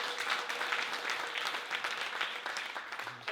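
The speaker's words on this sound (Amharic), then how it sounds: "እስቲ አጨብጭቡለት" A church congregation claps together in a brief burst of dense, even applause with many hands, fairly soft and distant, lasting a few seconds.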